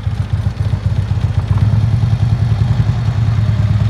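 Harley-Davidson Road Glide motorcycle engine running at low RPM through a slow U-turn with the clutch worked, a steady close, loud rumbling throb with a rapid pulsing beat throughout, no talk.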